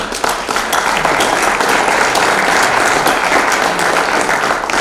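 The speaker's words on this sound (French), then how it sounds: "on t'applaudit vraiment très fort." An audience at a dinner recital at the Automobile Club de France gives steady, dense applause that stays strong and even throughout.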